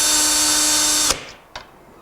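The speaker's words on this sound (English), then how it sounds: "you can just drill into those spots and everything should fit perfectly" A power drill bores holes into a window frame to mount an AXA electric window motor. A loud, steady whine runs for about a second, then cuts off, followed by two sharp clicks.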